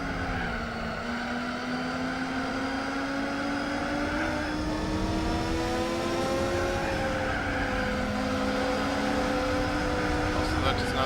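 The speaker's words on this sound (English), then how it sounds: "Sounds like they changed the engine sound for this car in this mod." A modded car engine in Gran Turismo 4 drones steadily as the car accelerates, its pitch climbing gradually with brief shifts, while a person talks quietly over it.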